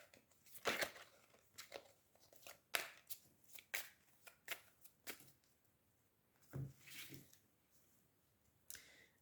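Small Lenormand oracle cards riffled and handled close by, quiet papery flicks and taps in irregular clusters with short pauses, soft and without talk.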